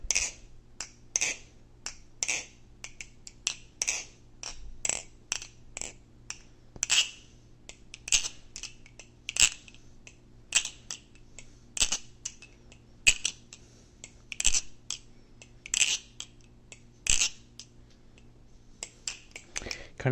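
Typing on a Glidr OG 4 keyboard gives sparse, crisp clicks and taps at an uneven pace, quiet and close against a faint steady hum.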